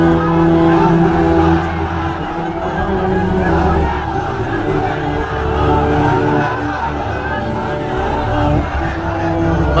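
A sermon audience shouts takbir together, a loud massed roar of voices rising and swelling for several seconds before settling into a steady crowd murmur.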